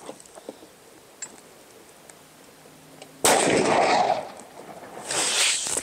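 A gunshot is fired at homemade bullet-resistant glass, a single sudden loud blast after a quiet stretch, followed by a sustained roaring wash and then a second swell of noise.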